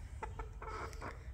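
A pet chicken indoors gives a few soft, close clucks in a short burst, faint and quiet.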